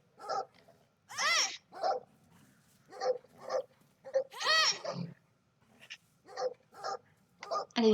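A dog in the video game Brothers: A Tale of Two Sons barks and yelps repeatedly in short bursts, some high and whining, close up against a quiet background.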